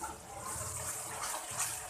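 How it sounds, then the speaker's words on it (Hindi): Water is splashed into a pan of frying masala spices for moong dal mangochi, giving a steady hissing, bubbling sizzle with no talk over it. "पानी का छींटा लगाएंगे, हल्का सा पानी का छींटा लगाएंगे और फिर मसाले को अच्छी तरह भूनेंगे"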